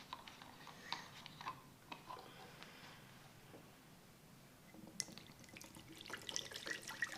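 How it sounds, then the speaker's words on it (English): Acetone poured into a bowl or plate to dissolve foam, a soft trickling pour with small drips and splashes, heard close and fairly quiet with no speech. "Simply pour out some acetone in a container like a bowl or a plate."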